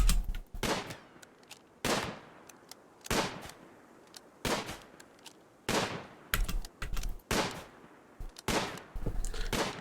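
Single gunshots during shooting training in RimWorld, each a distinct crack with a short tail, spaced about a second apart at first and then coming faster in small clusters toward the end.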